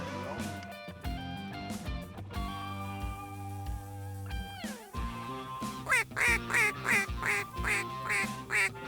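Ducks quack at a duck and goose hunt, a run of rapid, nasal calls building into a loud rhythmic series near the end, with brief talk earlier.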